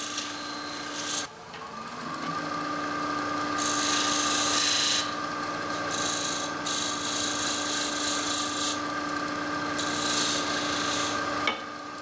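A lathe tool undercuts a spinning wooden burl box, a steady rasping scrape over a continuous motor hum that runs for about twelve seconds, with brighter bursts of cutting noise at intervals.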